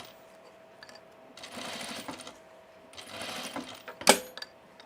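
A home sewing machine stitches fabric for a sunblock top close to the seam allowance, running in two separate bursts of whirring with quiet gaps between, followed by a sharp click near the end.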